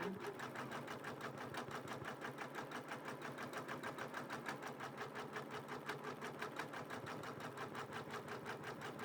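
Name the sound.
Janome embroidery machine stitching butterfly antenna applique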